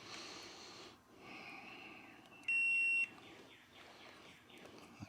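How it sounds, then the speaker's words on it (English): A buzzer continuity tester gives a single loud, steady electronic beep of about half a second while a Wico LD71B magneto is tested, surrounded by quieter background chirps and faint handling noises. "And let me turn my buzzer on here."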